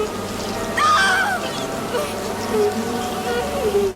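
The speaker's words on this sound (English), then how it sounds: "Offering Helen immortality, the Candyman opens his coat, revealing a ribcage full of bees." A swarm of bees from the Candyman film buzzing steadily throughout, a dense, continuous drone with rising and falling tones, fairly loud and alone.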